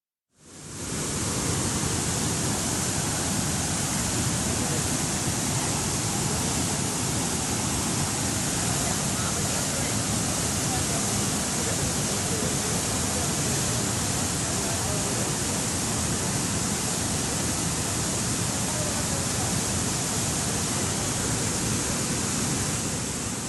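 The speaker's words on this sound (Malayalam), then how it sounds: "കൈതപ്പൊയിൽ ചെമ്പുകടവ് പാലത്തിൽ വെള്ളം കയറി." Heavy monsoon floodwater pours over the Chembukadavu bridge at Kaithapoyil in Kozhikode's hill region, a loud, steady, unbroken roar of rushing water that holds for the whole stretch with no voices.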